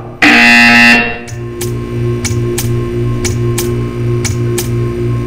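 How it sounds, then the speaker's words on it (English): A loud electronic buzzer blares in the Portal 2 video game opening scene, one long harsh tone followed by a low steady hum with a series of short regular clicks. "You will hear a buzzer. When you hear the buzzer, stare at the art."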